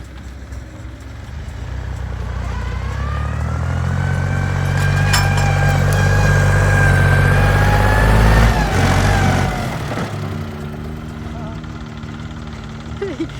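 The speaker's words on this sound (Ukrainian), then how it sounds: "То вже трактор виходить." A Chinese tractor engine labours uphill in muddy terrain, a steady loud diesel drone that builds up and then eases off, with people talking over it.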